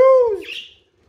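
A pet budgie gives a single loud, close chirp that slides downward, followed by a brief softer rasp, then silence.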